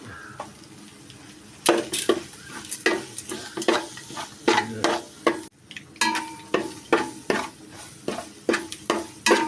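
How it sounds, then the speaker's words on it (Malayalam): Food roasts and sizzles in a pan with salt and curry leaves for chutney powder while a utensil scrapes and stirs in repeated rhythmic strokes, close and clear with no talking. "നമ്മളിത് വറക്കണം ഇത് ഇച്ചിരി നേരം വറുത്താലോ"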